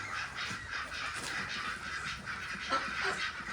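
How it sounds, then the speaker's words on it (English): White Peking ducks on a farm quacking in a loose, steady chorus of repeated calls at moderate distance, with faint outdoor background and no talk. "These are the Peking ducks."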